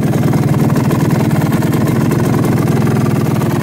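A 1996 Suzuki RMX 250 motorcycle engine runs at a steady idle nearby, a loud, even stream of rapid low pulses with no change in speed and no voices.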